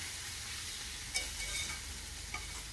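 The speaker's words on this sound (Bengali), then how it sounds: "ভালো করে কিন্তু একটু নেড়ে চেড়ে নিতে হবে" Turmeric powder stirred into sizzling food in a pan during a village-style chicken recipe, a steady close frying hiss with a couple of soft scraping clicks from the spoon, no voices.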